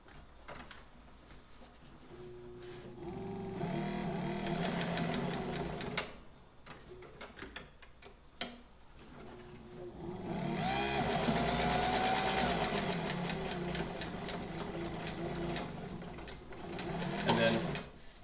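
A reconditioned White Rotary sewing machine running a short back tack to lock a stitch, giving a close, steady whirring hum that stops for a few seconds and then starts again, with a person talking over it.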